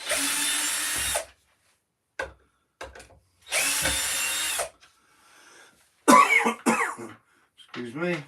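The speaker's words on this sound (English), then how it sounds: "I've got to take it off this board anyway to drill it" A cordless drill bores into a wooden board in two loud bursts of about a second each, separated by quiet, followed by a cough and close talking.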